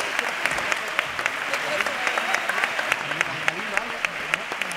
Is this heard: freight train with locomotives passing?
no